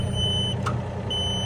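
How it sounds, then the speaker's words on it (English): A mini excavator's quick coupler control gives a steady high electronic beep that briefly breaks off and resumes, heard alone and loud over the machine's low engine rumble. "You press the red button, it beeps and flashes"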